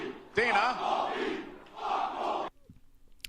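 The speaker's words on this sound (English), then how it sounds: "A fuck Colby chant breaking out." A crowd at a UFC 297 press conference chanting in two loud rhythmic bursts that then cut off suddenly, leaving near-silence with small clicks.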